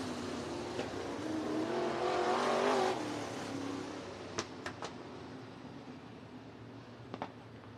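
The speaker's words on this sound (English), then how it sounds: "for Buddy Niss, trying to bring it home here in heat race number 5 as the yellow flag flies for Andrew Peckham." IMCA Modified race cars in a heat race at Cottage Grove Speedway, Oregon, engines roaring and swelling as cars pass at a distance, then easing off under a yellow flag, with a few sharp clanks.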